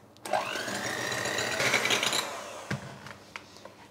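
An electric whisk beats three whole eggs in a wide bowl with a close, whirring motor hum that starts abruptly and runs steadily, broken by a few clattering knocks of the beaters against the bowl.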